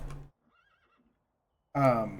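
A horse in the Minecraft video game gives a short, faint neigh in a quiet gap between bursts of a man's speech.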